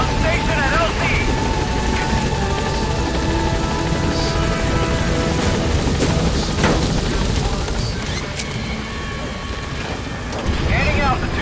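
A helicopter lands and departs in the stealth-action game Metal Gear Solid V: The Phantom Pain. Its loud, continuous rotor throb and engine roar fill the clip, with game radio voices and effects over it.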